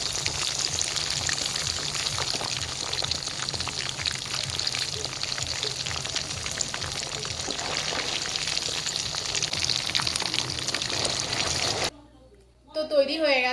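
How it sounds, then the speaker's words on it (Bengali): Fish pakoras made with Bombay duck (lote fish) frying in hot oil give a continuous crackling sizzle, steady and close, that cuts off near the end. "আর আগের বারের মতো করে কিন্তু পকোড়াগুলোকে ভেজে নিচ্ছি"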